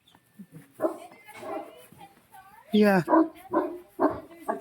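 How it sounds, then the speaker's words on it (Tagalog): A big dog barks several times in a series of deep, loud barks at an outdoor tourist spot on Jeju, Korea, while people talk nearby before and between the barks. "laki ng aso."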